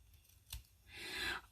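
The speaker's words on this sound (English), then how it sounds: "I'm just going to use my scissors." A quick scissor snip, then a longer slicing cut through paper, close and quiet.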